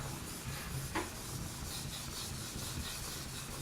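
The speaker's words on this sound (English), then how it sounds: "walk you through how I sharpen this usuba." A single bevel usuba knife is drawn across a sharpening stone in faint, repeated rubbing strokes, quiet and close with a soft scrape every half second or so and no talking.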